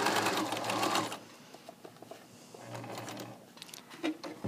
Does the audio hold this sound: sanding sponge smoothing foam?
no